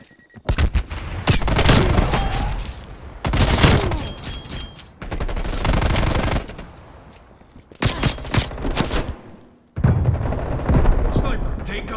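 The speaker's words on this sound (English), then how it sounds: "Enemy sniper shooting." Heavy gunfire in Black Ops Cold War, with long loud bursts of rapid shots separated by brief pauses, dense and close, and game voice callouts mixed in.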